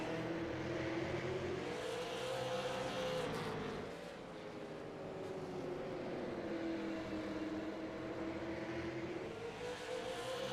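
Race cars lapping the oval at South Boston, with a steady engine drone that rises and falls in pitch as the field circles. The cars sound mid-distance and fairly faint, and nobody is talking.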